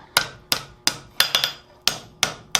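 Hammer blows on hot-riveted flat plate tongs being adjusted at the forge, eight sharp ringing strikes at an uneven pace, with a quick double hit in the middle, each clear and close.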